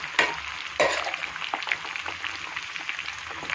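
Chicken pieces for pickle fry slowly in plenty of oil, giving a dense, crackling sizzle with a couple of sharp clatters near the start and light stirring beneath.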